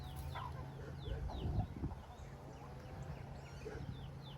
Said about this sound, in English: I hear a baby chick somewhere.